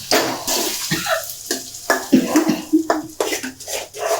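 Cooked lentils poured into a metal pan holding drumstick pieces, with wet plops, scraping and clinks of a ladle against the vessel in irregular bursts, close and moderately loud.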